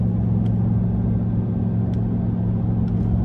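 A 2024 RAM TRX pickup in sport mode pulls away from a stop, its engine a loud, close, steady low rumble with a strong droning tone inside the cab.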